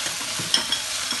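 Pasta sauce frying hot in a pan, a steady close sizzle with a few soft stirring knocks over about a second.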